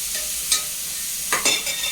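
Mustard seeds, curry leaves and dried chillies hit hot oil, giving a soft steady sizzle broken by a few sharp crackling bursts and a quick stir, close and brief.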